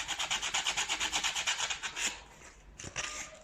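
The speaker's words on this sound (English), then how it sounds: "by folding the sanding paper, you're actually creating the sanding on the both sides so that it sands on this blade and the top one at the same time" Sandpaper folded double rubs rapidly back and forth over the blades of a Defy washing machine, producing about a dozen close, regular scraping strokes before stopping, followed by a few softer rubs.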